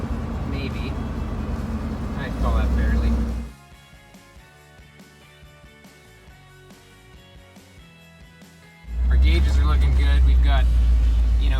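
A 1984 GMC van drives along a road on a test drive. Its engine and road rumble are loud and steady at the start and the end, drop to a quieter interior hum in the middle, and voices talk over it.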